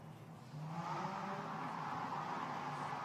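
A GT race car pulls out of the pit lane onto the circuit during Blancpain GT Series Asia 2019 qualifying in Thailand. Its engine is loud and close, rising at the start and then holding a steady, unbroken roar.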